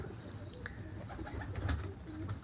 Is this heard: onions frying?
no